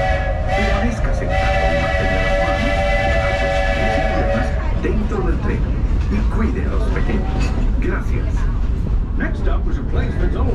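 Walt Disney World Railroad train in Orlando, Florida, rumbling steadily along the track with a sustained whistle sounding early on, while a voice speaks over the continuous rolling noise.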